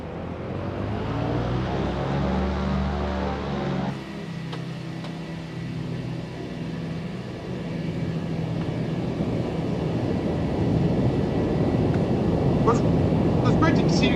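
A Douglas DC-3 propeller airplane taxiing, with a steady piston-engine drone and rumble that shifts in tone partway through, then a rising roar with a few faint clicks near the end.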